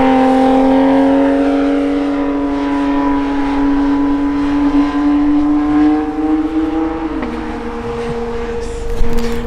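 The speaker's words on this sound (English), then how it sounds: "GT3. Still sounds amazing." A Porsche 911 GT3 engine on a race track, a loud sustained high-revving howl with steady harmonic pitch that dips as the car shifts or lifts near the end.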